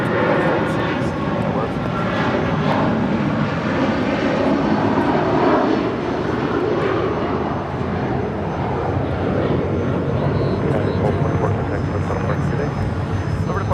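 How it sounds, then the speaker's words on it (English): United Airlines Boeing 757-300 departing LAX for Honolulu, a loud, dense jet roar with rumbling texture that stays strong throughout, and a voice speaking at times. "That is United Airlines Flight 1224 departing to Honolulu on a 757-300"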